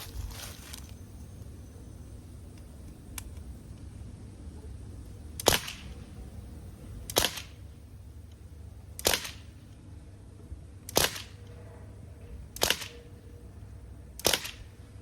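A Crosman 1077 semi-automatic CO2 pellet air rifle in .177 caliber fires six sharp, evenly spaced shots about two seconds apart over a low steady background hum.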